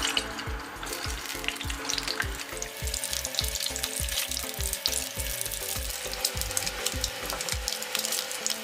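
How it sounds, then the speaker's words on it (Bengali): Eggs frying in hot mustard oil in a wok, a loud continuous crackling sizzle with sharp spitting pops, close up, that cuts off near the end with no voices. "তেল গরম হয়ে গেছে, আমি এবার ডিমগুলি ভেজে নেবো।"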